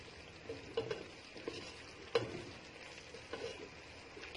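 Chicken macaroni with soy sauce is stirred in a pan, giving quiet frying crackle beneath a few soft scrapes and clinks of the utensil, close and low in level.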